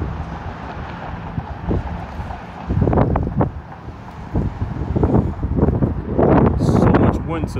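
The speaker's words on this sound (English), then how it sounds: "Wind today." Wind gusts buffet a microphone on a downtown street in Sioux City, Iowa, in loud, rough rumbling bursts that swell and fade unevenly throughout.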